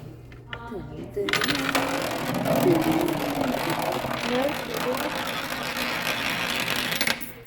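Coins dropping and clattering through a coin drop display at Heritage Park in Calgary, a busy rattling cascade lasting several seconds, with people talking nearby.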